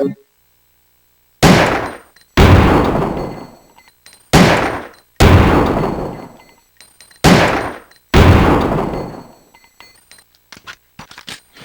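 Six loud handgun shots from an Enhanced M92F Custom firing enhanced 9mm rounds in Resident Evil 3: Nemesis, each a sharp blast with a ringing decay, spaced irregularly and followed by faint metallic clicks.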